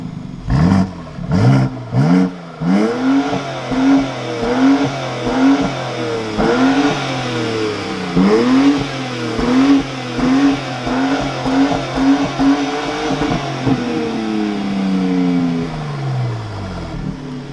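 A BMW X3M Competition in Sport Plus mode with exhaust flaps open accelerates hard, its deep engine climbing through repeated revving pulls and gear shifts, loud and close, ending in a falling note as it eases off.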